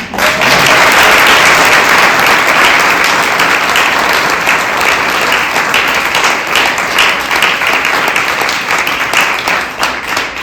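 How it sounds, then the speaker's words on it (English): A large audience applauds loudly for a group of senators at a White House event on judicial nominations, a full, sustained roar of clapping that stays strong before easing slightly toward the end. "They deserve a round of applause."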